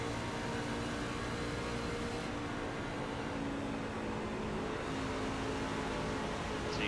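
A race car engine at Pocono in the Apex sim racing game, a continuous loud engine roar held near flat throttle with steady harmonic tone and slight pitch shifts throughout.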